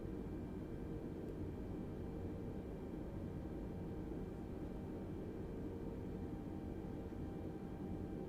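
Airbus A320 taxiing in Microsoft Flight Simulator on Xbox, flying London to Nice: a steady, even jet engine drone with broadband rumble holds unchanged throughout, with no talk.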